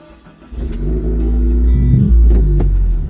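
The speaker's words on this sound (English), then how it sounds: "I'm going to turn the car on." A car engine cranks and catches about half a second in, then settles into a loud, deep, steady idle with slight revs, heard close up with no talking.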